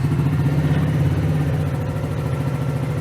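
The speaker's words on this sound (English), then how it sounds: "We'll start it up." A Champ CM50cc fuel-injected 50cc geared motorcycle runs at a steady, close idle, its small engine giving a continuous low, even chug for the whole stretch.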